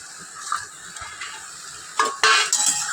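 Green chilies, onion and garlic with salt are stirred in a pan, soft frying hiss with a few light spoon scrapes that swell into louder metallic clinks and rustles near the end.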